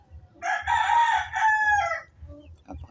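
A Black Dom hatch brood cock crows loudly and close by in one long, full cock-a-doodle-doo of about one and a half seconds, with faint clucks and low rumbling around it.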